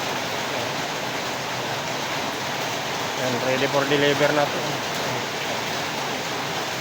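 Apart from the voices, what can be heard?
heavy rain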